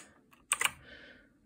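Several quick clicky keystrokes on a Redragon K568 mechanical keyboard with blue switches, a short cluster of sharp presses close up, followed by faint lingering noise, with no talking.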